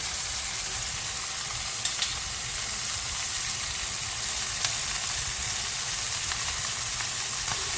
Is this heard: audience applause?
no